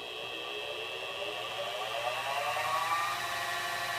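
A belt-driven shop machine spindle spins at 1700 RPM after a speed change, giving a smooth, fairly quiet continuous whir with a slowly rising tone, steady and close.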